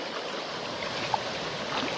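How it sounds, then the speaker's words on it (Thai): Strong, fast-flowing flood water rushing along a residential street, a steady broadband roar of moving water heard at a distance, fairly quiet and continuous with no talking. "อันนี้ก็จะเป็น ถนนหน้าบ้านผมนะครับน้ำไหลแรงเชี่ยวมากเลยครับ"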